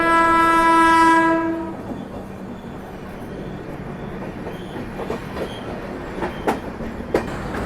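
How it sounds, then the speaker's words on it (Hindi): A goods train crosses a railway bridge over the Penna River at night near the Nellore barrage, heard from a passing express. It opens with a long loud horn blast, followed by a steady rumble and scattered clanks from the wheels. "अरे नहीं, ये तो गुड्स ट्रेन है।"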